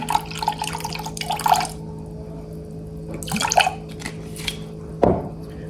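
Soy sauce pours from a bottle into a bowl of beef jerky marinade, a few short liquid splashes and drips in bursts, close and fairly quiet, with a clink near the end.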